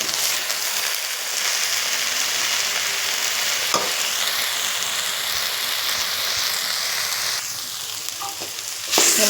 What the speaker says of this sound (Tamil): சீரகத்தூள், சோம்புத்தூள், தனி மிளகாத்தூள் எல்லாம் சேர்த்து மிக்ஸ் பண்ணிக்கலாம் நல்லா